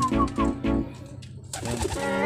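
Pigeons coo nearby in soft, rounded throaty calls, a few repeated phrases followed by overlapping cooing from several birds.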